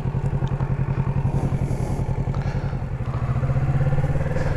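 A 2017 Kawasaki Z650 motorcycle rides off, its engine a loud, close, steady rapid pulsing throb that holds throughout and rises slightly toward the end.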